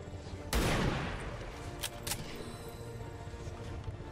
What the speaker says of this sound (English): Fire a sniper rifle at that target, get your kill.